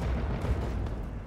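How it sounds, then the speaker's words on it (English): Dense, continuous rumble of booms and blasts in the game Fallout 3, a battlefield barrage rolling on without a break, heavy low-end thuds layered over one another, loud and close throughout. "Run towards the explosions again!"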